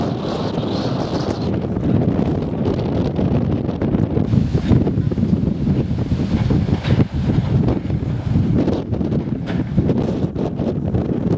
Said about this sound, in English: A bit gusty now, Kate.